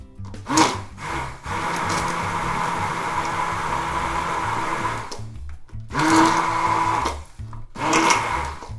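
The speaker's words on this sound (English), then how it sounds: "We'll give it a blend to get those thicker bits to fully incorporate." A blender mixing thick, lumpy body lotion whirs in several bursts, a long steady run in the middle followed by two shorter pulses, loud and close with pauses between.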